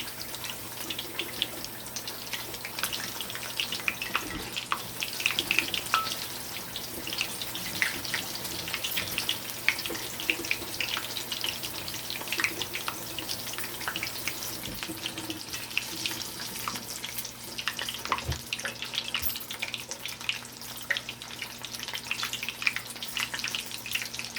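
Washing up at a kitchen sink under running tap water, with a continuous moderate splash and clinks of dishes throughout, alone without speech.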